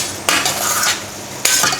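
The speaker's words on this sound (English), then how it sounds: "just gently stir this into the pears" Cream is gently stirred into pears cooking in a pan for rice pudding, with two distinct scraping strokes of a spoon against the pan over a soft sizzle, close and fairly loud with no talking.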